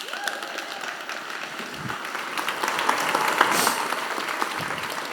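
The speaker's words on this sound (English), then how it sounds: "Can we give them a hand of applause?" A conference audience at a music industry panel claps for panelists arriving on stage, a steady wash of applause with a few scattered whoops and cheers rising slightly midway.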